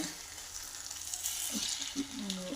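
An egg frying in a pan gives a continuous crackling sizzle, with a few soft scraping stir sounds toward the end and no talking.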